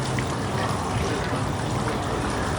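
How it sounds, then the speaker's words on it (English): Water flows continuously in an always-running fountain, a dense, even splashing and trickling rush that stays steady throughout with no voices. "This fountain is always on. It's always flowing."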